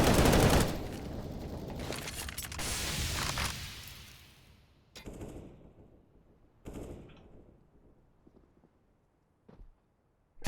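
Gunfire in Counter-Strike on the Dust 2 map during a Europe Minor qualifier match, a loud dense burst of shots in the opening seconds, then several sharp isolated reports with quieter gaps between them.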